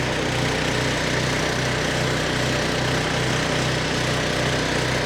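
Steady, loud engine drone from a Weibang Velocity 68 tracked flail mower running close by, with a constant low rhythmic throb and no talk.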